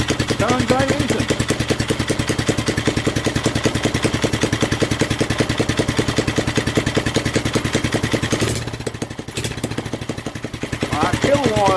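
An old wagon engine chugs steadily with a rapid, regular knocking beat, loud and close, briefly faltering before picking back up.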